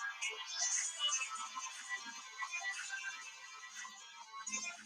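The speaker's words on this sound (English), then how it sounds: "That's my phone. I should have turned it off." A mobile phone ringtone goes off at a healing-circle camp gathering. Its faint, high melodic tones run continuously for about five seconds with little else around them.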